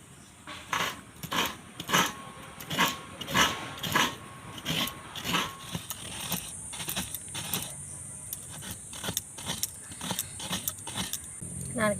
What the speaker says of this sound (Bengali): নারকেলটা এখন কুড়ে নেবো